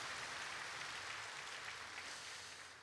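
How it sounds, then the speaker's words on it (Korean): A steady wash of applause from a church congregation at a Sunday morning service, fairly loud and continuous, fading slightly toward the end. "하나님께 영광의 박수 올려드리겠습니다."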